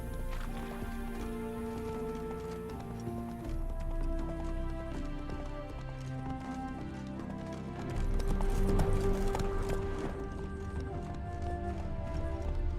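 Horse hooves clip-clopping and galloping in The Witcher 3, a steady rhythmic beat under a continuous bed of game music, picking up in intensity partway through.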